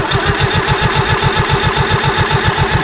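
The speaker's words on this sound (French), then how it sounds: "on entend le pouf dans l'échappement" Massey 821D tractor with a Hanomag two-stroke diesel engine firing up and running, a loud, rapid, even chugging beat with exhaust pops, close and steady throughout.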